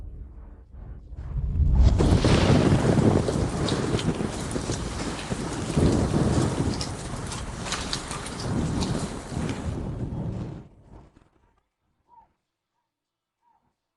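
A heavy thunderstorm swells up, with dense rain pouring and deep thunder rumbling for several seconds, loud and enveloping, then it cuts off abruptly into near silence.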